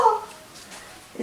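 A small indoor dog gives a brief high whimper followed by faint yips, short and close, lasting only about a second.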